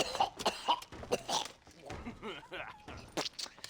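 A man coughs several times in Red Dead Redemption, harsh repeated bursts close up, with other game voices and sounds around them.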